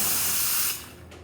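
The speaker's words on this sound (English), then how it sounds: "Nice steady steam coming out of the machine." Close, continuous jet of steam hisses from a Jura Impressa F8 coffee machine, a repaired leaking unit, then drops abruptly to a quieter hiss partway through.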